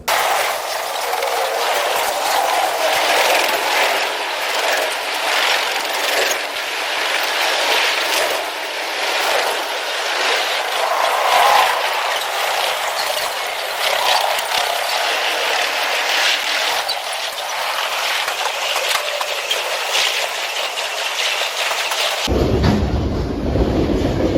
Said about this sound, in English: since this train is such a massive train